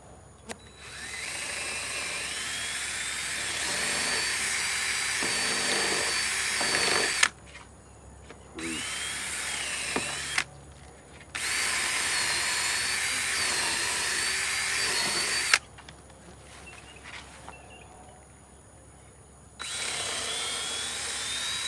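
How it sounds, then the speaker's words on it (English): A power drill bores holes into a wooden beehive in long, loud whining bursts of several seconds each, separated by short pauses. "I'm gonna drill another hole."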